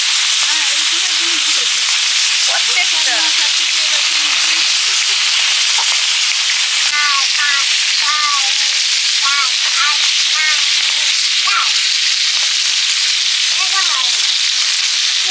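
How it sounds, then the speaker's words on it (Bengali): Koi fish fry in hot oil, a loud, dense, unbroken sizzle and hiss held for the whole stretch, with a voice speaking intermittently over it. "মাছগুলো ভেজে নেব।"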